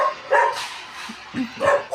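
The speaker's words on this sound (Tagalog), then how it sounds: "Sobrang ingay dito guys. Daming aso." Several dogs bark in short, scattered bursts, some a little distant, with a couple of higher yips among them.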